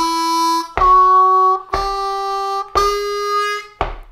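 Close, clear harmonica phrase of four held notes: 2-draw, then the 3-draw hole bent a whole step, bent a half step, and finally played straight, each sharply articulated with a short breath gap between.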